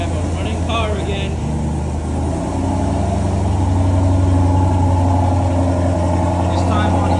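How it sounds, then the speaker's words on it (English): A car with a 5.7 Hemi engine, running on E85, idles steadily with a low, constant rumble that swells slightly midway and holds at a loud, close level throughout. "Back in business. We have a running car again."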